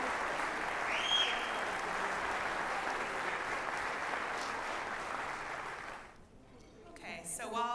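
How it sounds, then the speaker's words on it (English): Audience applause for a school band camp jazz band, dense steady clapping filling the room for about six seconds before it fades out, followed by a voice starting to speak. "Round of applause for the whole jazz band."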